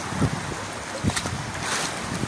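Strong gusting wind buffets the microphone over the wash and slap of big waves against a boat, with rumbling bursts rising and falling throughout.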